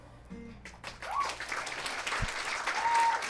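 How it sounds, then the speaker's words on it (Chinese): An audience at a music party in a small venue applauds a musician, with a dense, sustained burst of clapping close by and a few faint voices underneath. "很明显的，他的掌声比我还大。"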